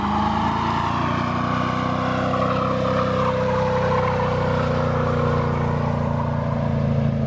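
A Chevrolet C1500 pickup truck engine holds a loud, sustained high-revving drone while its tires spin, the pitch shifting slightly throughout.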